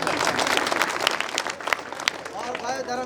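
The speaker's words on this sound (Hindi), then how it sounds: "एक बार बा के लिए जोरदार तालियां" An audience claps loudly in a dense burst of applause with a few sharper individual claps standing out, and a voice cuts in faintly near the end.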